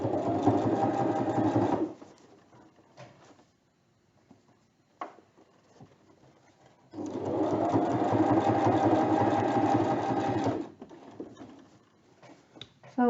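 A sewing machine stitches a centimetre seam on fabric for a plant pot cover, two steady running bursts of rapid mechanical chatter separated by a quiet pause with a few clicks as a pin is handled.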